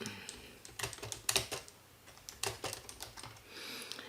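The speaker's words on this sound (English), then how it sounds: "So I can type in a note" Fingers tap out a note on a computer keyboard, a quick uneven run of close, crisp key clicks with short pauses, nothing else audible.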